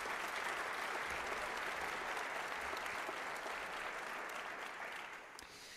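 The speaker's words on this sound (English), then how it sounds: "Give them a round of applause, please." Steady applause from a church-hall audience at a community justice assembly, a broad, even roar of many hands clapping that holds strong and then tapers off toward the end.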